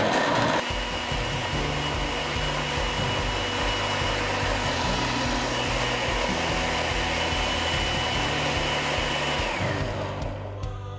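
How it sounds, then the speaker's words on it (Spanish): A blender whirs steadily at high speed through peeled garlic and olive oil, loud and continuous with a droning motor tone, then winds down at the end. "Y listo, vamos a agregarlo a la licuadora."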